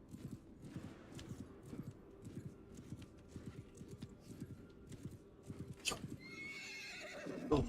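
A horse in a video game battle clip-clops along in a steady rhythmic walk, then lets out a loud, shrill neigh and whinny near the end.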